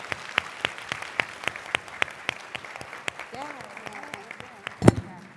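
A summit audience applauds a panel, with steady separate claps at a moderate distance that thin out toward the end, then a louder knock near the close.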